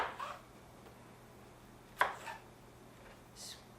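A knife cuts small piles of vegetables in half on a cutting board, giving a few sparse, crisp chops spaced seconds apart against a quiet kitchen background.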